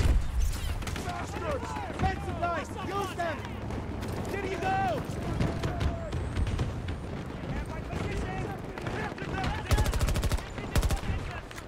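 Dense rapid gunfire and explosions from the Battlefield 2042 shooter game fill the scene continuously, with bursts of automatic weapons and heavy blasts, while people talk excitedly over the combat.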